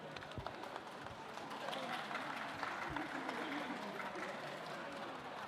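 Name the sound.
audience applause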